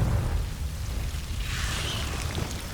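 A Confringo explosive spell blast in the Hogwarts Legacy video game, a low rumbling roar that swells into a bright, hissing burst midway, then fades with no voices.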